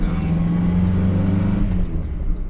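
Morris Minor car engine running steadily on a road test drive, a low mid-pitched drone that holds loud and close, then eases off near the end with no talk over it.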